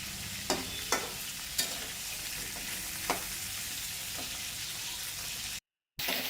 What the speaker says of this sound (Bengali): খুব সুন্দর লাল লাল করে ভাজা হয়ে গেছে